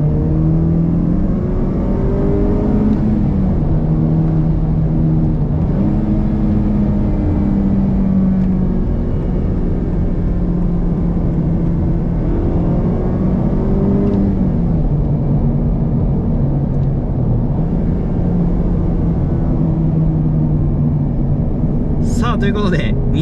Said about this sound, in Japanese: ちょっとアクセル踏んでいきましょうか。 今3速いきます。